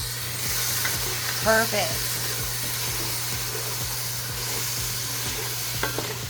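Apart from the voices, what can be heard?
scraping caramelized bits off the pan bottom while cooking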